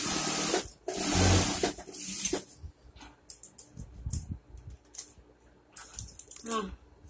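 A sewing machine stitches a bodice seam with a contrasting thread and a one-centimetre allowance, sounding as a loud, fast mechanical whir in the first seconds, followed by quieter clicks and handling noises while a person speaks.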